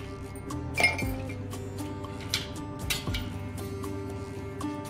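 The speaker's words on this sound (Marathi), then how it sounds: "आता आपण यामध्ये बर्फाचे क्यूब्स टाकणार आहोत" Ice cubes clink sharply against a glass vessel of cumin sherbet, a handful of bright knocks spread unevenly over a few seconds.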